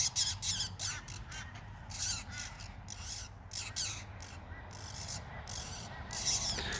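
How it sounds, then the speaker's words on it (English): Birds give repeated harsh, crow-like squawks and caws in quick irregular bursts, fairly near, over a low background hum. "This is more footage of these birds."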